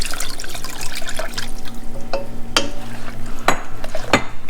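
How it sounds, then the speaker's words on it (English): Chicken broth, about a quart, poured into a pot over pho ingredients, giving a steady liquid splash and trickle with a few sharper clinks, close and continuous throughout. "I'm just pouring about 1 quart of chicken broth right over it."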